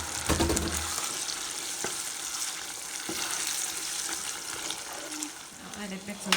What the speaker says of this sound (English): So I'll add my tomatoes.